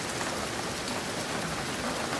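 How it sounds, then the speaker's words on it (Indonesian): Heavy, very dense rain pours down steadily outdoors, a constant loud broadband hiss of drops hitting surfaces with no pauses and no voices. "Ini dah hujan kuat sangat tadi. Sangat lebat."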